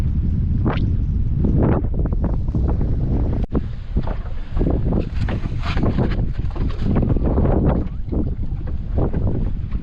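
Strong, gusty wind buffets a sailboat on open water, roaring loudly and continuously against the microphone with surging gusts and no voices.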